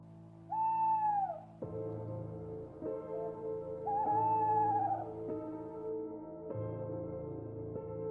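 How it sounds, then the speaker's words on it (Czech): An owl hoots in repeated long, wavering calls, three phrases spaced a few seconds apart, fairly faint against a quiet low background hum. "Jediný zvuk, který k nim doléhal, byl jemný šum listí a vzdálené houkání sovy."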